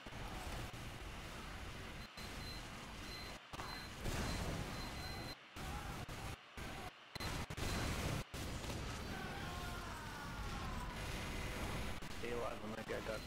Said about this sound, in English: I'm just gonna shoot in that direction just cause.